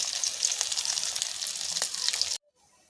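Snakehead (lata) fish pieces frying in hot oil give a steady, close, bright sizzle with small crackles, cutting off abruptly near the end into near silence.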